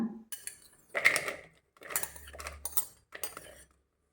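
Chopped papaya pieces drop into a pan in several soft clattering bursts, a few separate thuds and rattles heard close and quiet.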